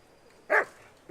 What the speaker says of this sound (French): le chien qui bouge pas